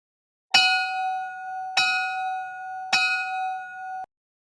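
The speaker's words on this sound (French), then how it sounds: "Donc, commençons avec notre premier au son de la cloche." Three clear, ringing bell strikes evenly spaced about a second apart, each with a sharp attack and sustained decay, sounding alone as a jingle opening a podcast segment.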